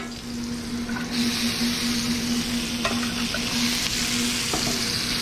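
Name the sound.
eggplant stir-frying in oil in a wok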